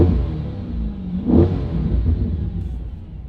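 A 2020 Corvette C8 with a performance exhaust rumbles as heard from inside the cabin, a low steady engine drone that swells briefly in a short rev before settling back.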